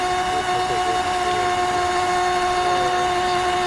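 A radio-controlled racing boat's motor holds a steady, high-pitched whine as it tows another boat at a beach, droning continuously and fairly loud with no break.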